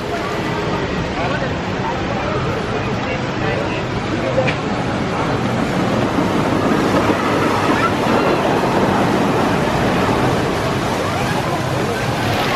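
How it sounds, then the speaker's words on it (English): Blackpool Pleasure Beach's Big Dipper roller coaster rattles along its track in a continuous loud roar and clatter, with rider voices mixed into the din. "An awesome ride there on the Big Dipper here at Blackpool Pleasure Beach."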